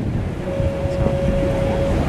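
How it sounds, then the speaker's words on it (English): Boat ride across water on a Disney resort launch, with a steady low rumble of engine and wind buffeting the microphone, and a faint tonal whine running through, no voices. "This is a beautiful morning for a boat ride."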